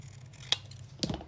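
Scissors snip twice at a paper tea tag pocket, giving two crisp close cuts about half a second apart over a faint background hum.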